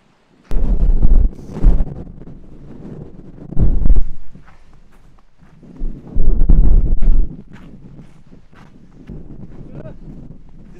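Gusty winter wind on a mountain summit in the Thuringian Forest buffets the microphone in heavy low rumbles that come and go, with a person speaking between the blasts.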